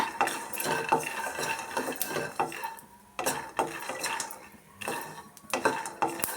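Chutney ingredients being roasted in a pan over a low flame, with repeated scraping and clinking of a spatula against the metal and a faint sizzle underneath, close by, pausing briefly in between, with no voices.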